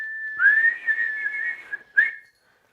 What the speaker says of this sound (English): our cat knows to come when we whistle